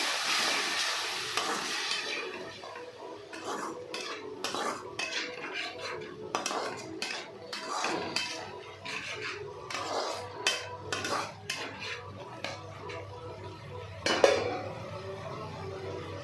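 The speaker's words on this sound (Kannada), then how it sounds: "ಆ್ಯಡ್ ಮಾಡ್ಕೊಂಡು ಚೆನ್ನಾಗಿ ಫ್ರೈ ಮಾಡ್ಕೊಳ್ಳಿ" Chicken liver fries in a pan with a ground spice paste: a low, steady sizzle under busy metal stirring, repeated clinks and scrapes of a spatula, and one louder knock near the end.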